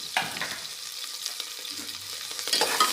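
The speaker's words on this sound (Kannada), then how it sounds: "ಚೆನ್ನಾಗಿ ಫ್ರೈ ಮಾಡ್ಕೊಳ್ಳಿ." Green chillies and onion frying in hot oil for chicken biryani give a steady crackling sizzle, with scraping stirs of a spoon in the pan close by and no talk.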